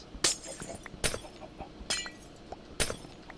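Four sharp glass-block shatters from Minecraft, spaced roughly evenly about a second apart, each a bright crisp crack with a short tinkling tail over a faint busy game background.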